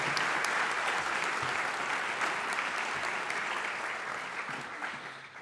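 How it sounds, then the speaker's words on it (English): An audience at a Saint Johnsbury Academy school event applauds the cheer team, a dense, steady wash of clapping that tapers off slightly at the end. "Let's give it up for our cheer team."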